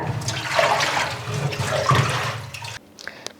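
Fish rinsed under a running tap: a steady, close rush of splashing water lasts nearly three seconds, then cuts off, leaving a few faint drips and handling sounds.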